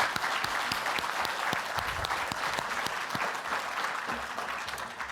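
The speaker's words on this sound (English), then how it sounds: "a round of applause for our closing panel" An audience applauds a closing conference panel with dense, sustained clapping from many hands that stays fairly even and tapers slightly at the end.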